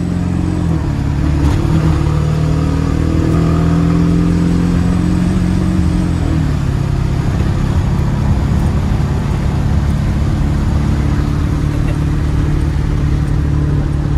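A Ford F250 7.3L Powerstroke diesel pickup engine, long left sitting, runs loudly and close by, a steady rumbling idle that dips slightly in pitch early and then holds constant.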